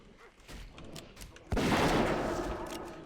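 A hunter's gun firing in World of Warcraft, a single loud burst that lands partway through and then rumbles on, with quieter game ambience before it.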